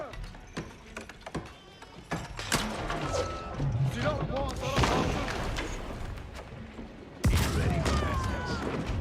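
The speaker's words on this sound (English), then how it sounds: "That village gets sniped by a 600-pounder." Heavy 600-pounder bombard cannons boom in an Age of Empires 4 battle, with scattered gunfire, mechanical clatter and a loud blast near the end, mixed with game effects and background talk.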